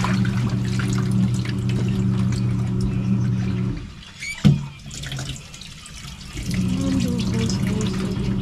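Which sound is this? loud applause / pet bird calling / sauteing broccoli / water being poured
water being poured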